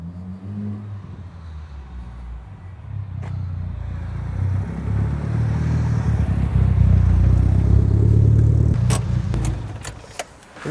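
A Mitsubishi Evo 8 approaches, its low engine rumble starting faint and swelling into a loud, close drone before easing off, followed by a few sharp clicks at the end.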